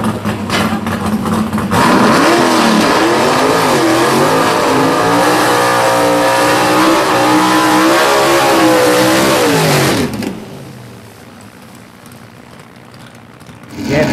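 A gasser drag race car engine making a full pull, roaring loud and close as it revs up through rising and wavering pitch for about eight seconds, then fading into distant track noise; an announcer's voice is faintly present.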